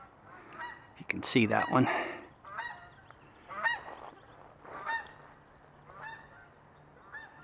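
Several geese honking as they fly overhead, a loud burst of overlapping calls followed by repeated evenly spaced honks that fade with distance, with someone speaking briefly over them outdoors.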